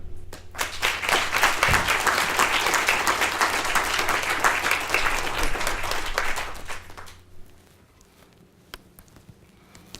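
An audience applauds loudly to welcome a speaker, with dense, sustained clapping for about seven seconds that then thins out and fades away.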